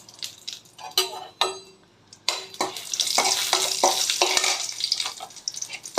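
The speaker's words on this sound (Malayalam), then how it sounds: "നമുക്ക് ആദ്യം മുളകിനെ ഒന്ന് വറുത്തെടുക്കാം. അപ്പോൾ നമുക്ക് മുളക് ഇട്ട് കൊടുക്കാം അല്ലേ." Dried red chillies frying in hot oil for a dosa chammanthi, giving a steady hiss and sizzle with stirring scrapes and knocks of a utensil against the pan, close and fairly loud, with no talk.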